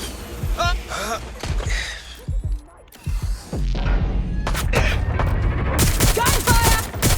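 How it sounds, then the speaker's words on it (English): Rapid gunfire bursts in the video game Watch Dogs Legion, loud and sustained with booms and thuds, mixed with game sounds and a voice shouting over the shooting. "Gunfire!"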